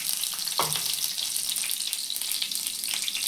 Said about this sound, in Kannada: ಈಗ ಎಣ್ಣೆ ಕಾದಿದೆ, ಇದಕ್ಕೆ ಬೆಳ್ಳುಳ್ಳಿ ಹಾಕ್ತಾಯಿದ್ದೀನಿ